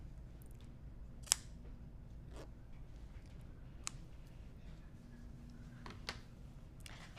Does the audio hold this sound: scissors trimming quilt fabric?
yes